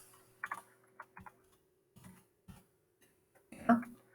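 Computer keyboard keys click in short irregular bursts of a few taps each, close and quiet, with pauses between and a faint steady hum underneath.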